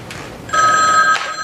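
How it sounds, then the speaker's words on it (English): Telephone ringing indoors in a dramatic film, a bright electronic trill that sounds once clearly after a faint earlier burst, close and fairly loud with no talking. "The phone is ringing."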